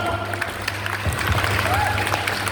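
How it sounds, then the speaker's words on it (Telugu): An audience claps for a correct answer in a brief burst of scattered applause, heard under a voice speaking over it. "మరోసారి అందరూ గట్టిగా చప్పట్లు కొట్టండి"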